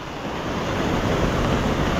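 Steady roar of sea surf washing onto a beach during heavy rain, loud and continuous with wind buffeting the microphone, no voices.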